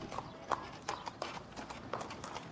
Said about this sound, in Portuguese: Ele viajou a cavalo e de carruagem, tal como Juliet o teria feito em seus dias.